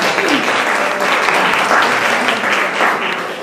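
Sustained applause from an audience at a Hungarian talk on Chinese medicine and the immune system, many hands clapping in a continuous, fairly loud wash with slight swells.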